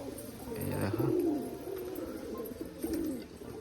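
A pigeon coos in two low, throaty phrases close by, with faint background noise between them.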